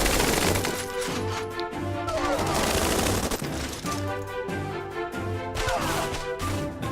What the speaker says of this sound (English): keep firing at them from the woods